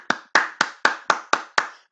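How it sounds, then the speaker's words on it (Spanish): Children in a first-grade English class clap in unison, seven crisp, evenly spaced claps with short decays between them in a quiet room. "Clap for you. Aplausos para ustedes, chicos."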